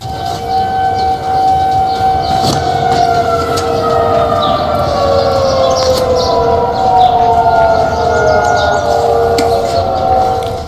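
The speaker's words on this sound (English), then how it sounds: "what do the sirens have to say? Sometimes they emit loud noises" A loud, sustained wailing siren with slowly sliding tones, steady and continuous throughout, with a faint rumble underneath.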